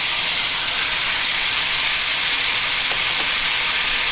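Sliced onions hit a pan of frying pork loin, giving a steady, loud hiss of sizzling oil that runs unbroken throughout with no talking.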